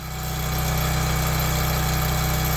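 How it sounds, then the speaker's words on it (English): A log splitter's engine drones steadily and loudly at idle, building up at the start and then holding an even, vibrating hum with no voices. "you won't be able to hear me with the splitter running"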